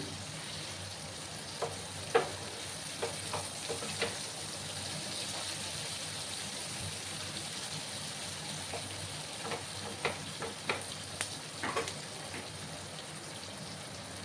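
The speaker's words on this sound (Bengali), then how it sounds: "একটু লাল লাল করে পেঁয়াজগুলোকে আমি ভেজে নেব। গ্যাসের আঁচটাকে আমি বাড়িয়ে দিলাম।" Onions fry in a pan on a gas stove, a steady faint sizzle with scattered small pops and the clink of stirring, quiet and close, with no talking.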